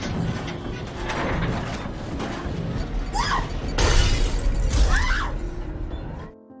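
Glass window of a ski lift gondola shattering in a horror film scene, a loud crash and spray of breaking glass over a low rumbling background, followed by further tinkling debris before cutting to silence.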